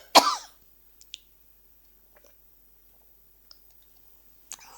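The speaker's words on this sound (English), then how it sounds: "why I started coughing." A person coughs once at close range, a short loud burst with a rough throaty texture, followed by a few faint clicks and small noises in an otherwise quiet room.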